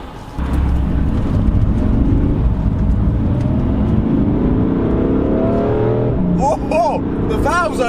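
A new BMW M3 in Sport Plus mode revs and accelerates hard up close, its engine note climbing steadily in pitch, with excited talking over the top near the end.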